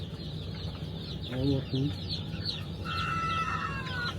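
Chickens cluck and chicks peep inside a coop, with a short burst of clucking and then high chirps continuing; a voice speaks briefly in the background.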